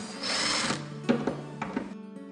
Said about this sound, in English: handy tool, take the screws out of the hinges